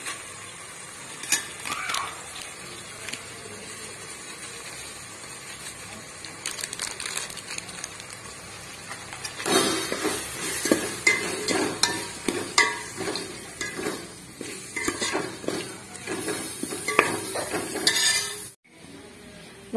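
A low-flame tempering sizzles in a pan as pasta masala is stirred in, with scraping and clinking of a spoon against the metal that grows busier and louder toward the end.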